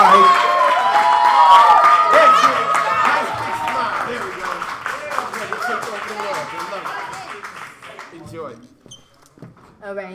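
An audience at a youth poetry slam in the Bronx claps and cheers as a poet steps up to the mic, a lively burst of applause and whoops that gradually thins out while voices chatter underneath.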